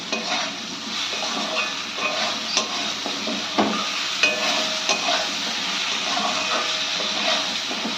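A hilsa fish head fries in hot oil while being stirred, giving a continuous hissing sizzle with scraping stirs and occasional knocks of the utensil against the pan, close and steady with no voices.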